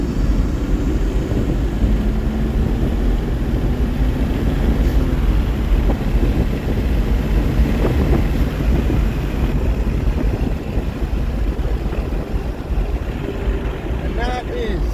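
Nissan GTR accelerating hard at around 80% throttle through third and fourth gear, a loud, steady, continuous engine and road roar heard from inside the car with no letup.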